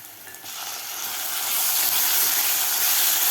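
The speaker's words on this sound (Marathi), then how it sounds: "टोमॅटोसुद्धा थोडंसं आपल्याला सॉफ्ट होईपर्यंत आपल्याला परतून घ्यायचं आहे" Tomatoes added to fried onion sauté in a hot pan for amla dal, a bright hissing sizzle that builds and holds steady at close range with no voices.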